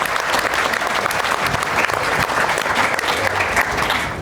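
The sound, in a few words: applause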